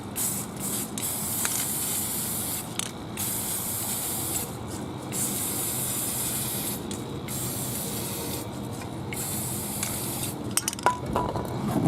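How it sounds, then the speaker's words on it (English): Rust-Oleum Camouflage 2x Ultra Cover spray paint in Deep Forest Green hisses from the can in long continuous bursts with several brief pauses, close and fairly quiet, coating 3D printed scenery. "I'm going to use this time it's Rust-Oleum, not Krylon, Camouflage 2x Ultra Cover, and this is Deep Forest Green"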